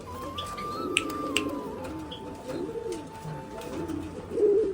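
Pigeons at a West Bengal pigeon farm coo in low, rolling phrases over several seconds, close by, with a few faint chirps and light background noise.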